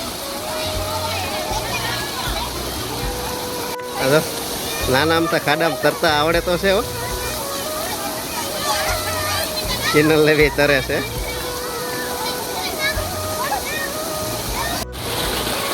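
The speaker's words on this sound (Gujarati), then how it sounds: "જો આ બધા ના એમ ધોધ પડે ને" Water tumbling from a small waterfall into a bathing pool at a temple site, a steady broad rush heard up close throughout, with children's and adults' voices talking and playing over it.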